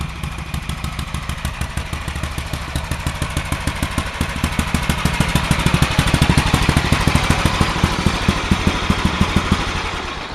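A 9-horsepower generator engine runs steadily, its loud, close, rapid firing pulses chugging evenly and swelling slightly midway, with no voices over it.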